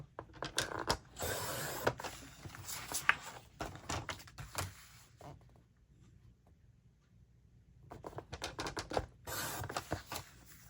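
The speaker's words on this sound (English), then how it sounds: "I'm going to go ahead and trim this one as well" Paper for a Christmas mini album is cut on a sliding paper trimmer in rapid, close rattling bursts, then falls silent for a few seconds before a second stretch of quick trimming.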